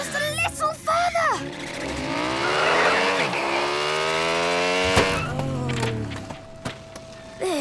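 Cartoon motorbike's tires skid and squeal in a long, rising and bending screech under engine revving, with short character voices before and after and a sharp impact near the end.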